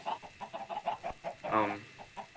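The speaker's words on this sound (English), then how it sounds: "I'm just getting triggered by all these chickens" Chickens on a sugar cane and pumpkin egg farm cluck in a quick, steady series of short calls at moderate distance, with one longer, louder squawk partway through.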